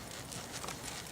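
A horse's hooves clip-clop in a steady walking rhythm on an arena surface during western dressage riding, with no talk over them.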